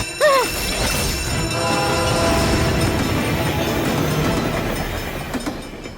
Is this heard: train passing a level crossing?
yes